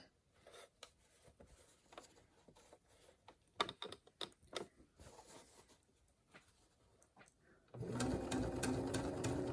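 A sewing machine stitches a face mask seam, first in short, slow bursts of needle strokes with pauses, then running steadily and louder for the last couple of seconds, close up with no talking.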